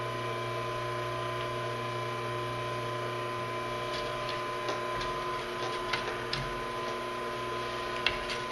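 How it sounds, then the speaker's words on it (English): A sewing machine stitches a quarter-inch seam on a leather tote bag, a steady, fairly quiet mechanical whir with faint ticking that runs evenly throughout. "So I'll sew this stitch here"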